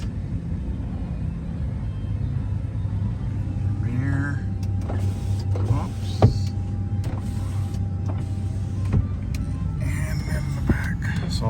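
Power windows in a 2004 Dodge Dakota Sport whir up and down in several short motor runs, heard close inside the cab over a low engine rumble, with a person talking between runs.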